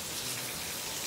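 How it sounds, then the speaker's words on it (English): Heavy rain in Florida roars as a dense, steady hiss of drops pounding surfaces, loud and unbroken throughout the short stretch. "This rain is so hard, too."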